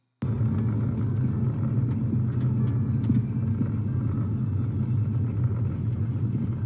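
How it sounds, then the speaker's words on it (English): Steady low rumble of a car driving along a road, the engine and tyre drone continuous and close after an abrupt start, with no voices. "23 seconds of somebody driving down some road"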